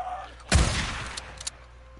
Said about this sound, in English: It'd be a shame if somebody just shot you with a shotgun